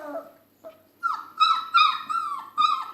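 Tired basset hound puppies whimper and grizzle close by, giving a run of high, wavering whines and yelps in short bursts after a few quieter murmurs.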